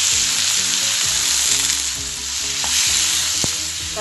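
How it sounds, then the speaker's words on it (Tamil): Tomatoes, shallots and curry leaves fry in a pan for a fish bone curry, a steady loud sizzle throughout with soft stirring scrapes and a couple of sharp utensil taps, no voices. "தக்காளியும் சின்ன வெங்காயமும் நல்லா வதங்கிடுச்சு"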